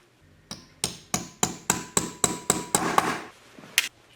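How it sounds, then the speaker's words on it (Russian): Steady hammer taps drive small heads into metal while a khomus jaw harp is being made by hand: about eleven sharp, ringing metallic strikes at an even rhythm, close and loud, with no talk. "Сейчас потихоньку вот так буду забивать, наверное, головки сюда."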